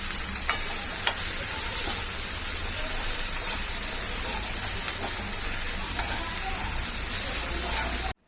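Amaranth greens (tandalja bhaji) fry in a pan over a lowered gas flame, giving a continuous dense sizzle with a few faint scrapes from stirring, no voices.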